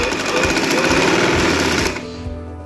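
A sewing machine runs fast and loud, stitching a double seam along a trouser crotch with a steady rapid whir and needle patter, then stops abruptly near the end.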